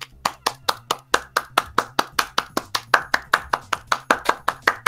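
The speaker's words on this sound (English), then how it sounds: "I feel like I should add some applause to this" Steady rhythmic hand clapping, sharp evenly spaced claps repeating about four times a second, close and loud with no voices.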